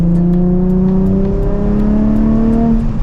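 A Nissan 350Z with the HR engine pulls away on a drive, its exhaust note rising in pitch as the engine accelerates through a gear, loud and close with no talking.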